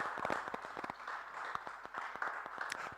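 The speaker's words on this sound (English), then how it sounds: "Please give a round of applause for Keturah." An audience applauds a woman named Keturah, founder of an e-commerce platform, as she is welcomed at a fintech and retail event: steady, dense clapping from a crowd, moderately loud and continuous throughout.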